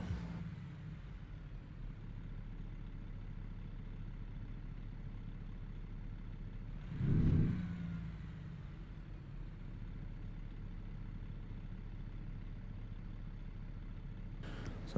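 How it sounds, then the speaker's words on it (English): A truck engine in the American Truck Simulator video game idles with a steady low rumble throughout, swelling briefly once near the middle before settling back to an even drone. "Sounds like you can hear the engine."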